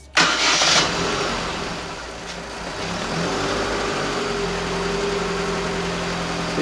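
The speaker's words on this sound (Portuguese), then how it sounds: "A gente vamos ligar o carro" A passenger car engine cranks briefly and catches, then settles into a steady, fairly loud idle with a low rumble, recorded up close during a radiator coolant change.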